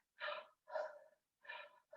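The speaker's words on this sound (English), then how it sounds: "Now I do some heavy breathing." Heavy breathing through a fitted face mask during a seal check, three loud, deliberate breaths in a slow rhythm with brief silences between, close to the microphone.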